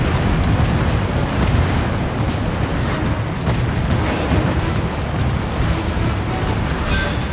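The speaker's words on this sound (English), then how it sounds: "We've destroyed an enemy battleship!" A destroyed enemy battleship blows up in a naval battle video game, a loud, sustained rumbling roar of explosion noise filling the whole stretch with no pause.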